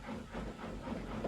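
Cartoon steam engine from Thomas and Friends puffing hard while hauling a train uphill, a steady rough hiss with rhythmic chuffing pulses, fairly quiet and continuous throughout.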